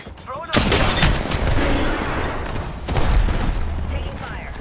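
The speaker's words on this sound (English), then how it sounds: "Taking fire." Loud bursts of gunfire in a squad firefight in Apex Legends, with a heavy volley near the start and another around the third second, dense and close, with voices talking over the combat.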